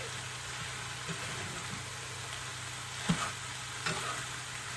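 Dry beef mince sizzles steadily in a hot pan, with a couple of sharp scraping stirs standing out against the continuous frying hiss, with no one speaking.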